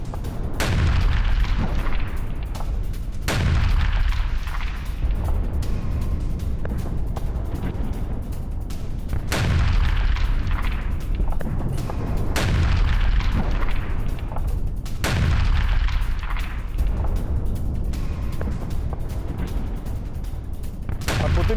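Heavy explosions boom at a Russian base in Kharkiv struck by missiles, with stored explosives detonating; four deep, loud blasts land at intervals of about three seconds, each rumbling out over a steady low background.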